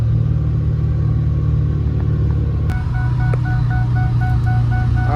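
A loud modified 650hp 6.0 Powerstroke diesel engine drones steadily from inside a moving extended-cab pickup truck with the back glass open, with a deep rumble that shifts partway through as a repeating seatbelt chime sounds over it.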